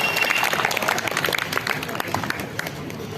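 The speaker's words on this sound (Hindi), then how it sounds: "मैं अपने मोहतरम और अफसर भाई का जो तशरीफ लाए हैं उनके लिए भरपूर तालियां" Crowd clapping for a visiting officer at a sit-in protest, a lively burst of many hands mixed with voices and crowd noise, fairly loud and close.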